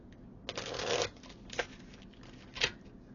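Tarot cards being shuffled, with a sustained riffle followed by two short, crisp bursts of card noise, close and fairly quiet with no talk.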